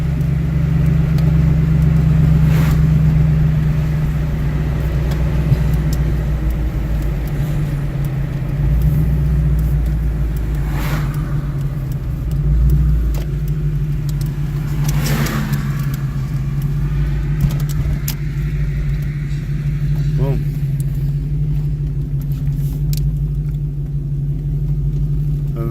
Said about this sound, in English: Very strong running old car.